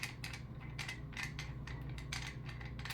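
Part of a Darth Vader Neopixel lightsaber hilt being unscrewed, quiet close metallic clicking and scraping in a handful of short bursts against a low steady hum.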